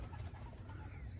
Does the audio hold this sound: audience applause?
no